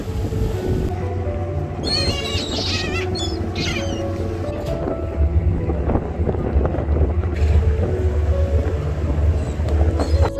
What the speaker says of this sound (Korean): 성산항까지 들어오는 배입니다.